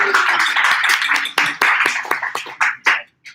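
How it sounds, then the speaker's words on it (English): Audience applause for new members at a Beer and UX community meetup, a burst of crowd clapping that thins into a few scattered, separate claps and fades out. "So round of applause to the new members"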